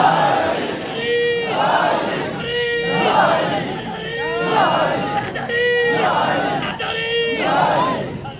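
A large crowd at a Shia majlis gathering roars a slogan in unison, with repeated chanted calls in steady rhythm about once every second and a half, loud and full across the whole stretch.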